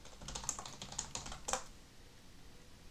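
Keyboard typing effects in the Stories Untold video game: a short run of crisp key clicks with a few sharper strikes, heard close over a low ambient hum and then fading into quiet, with no voices.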